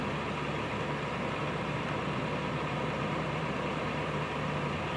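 A fire engine idles on a residential street, giving a steady, unbroken low rumble at moderate distance with no voices.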